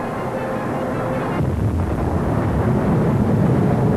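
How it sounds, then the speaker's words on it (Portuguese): Deep, continuous rumbling roar with booming low-end surges that swell louder after the first second and a half, like distant volcanic blasts expelling steam and molten rock. "Havia enormes explosões expelindo vapores e rochas derretidas."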